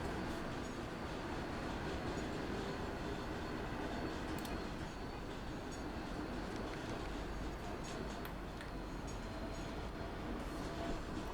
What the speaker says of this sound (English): he's stopping at a tram stop, as good tram drivers should